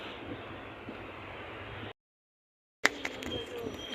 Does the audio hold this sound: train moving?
yes